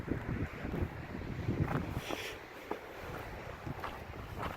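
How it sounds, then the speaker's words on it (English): Strong wind gusts buffet the microphone at a mountain overlook in Mueller State Park, Colorado, a steady low roar with surging bursts that ease slightly partway through. "it's really windy, so the winds could pick up at any time"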